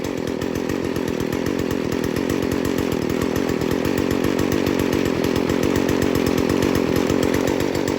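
Stihl FS 40c weed eater engine running steadily near at high revs with a rapid pulsing buzz, its carburetor tuned rich so it starts to bog slightly.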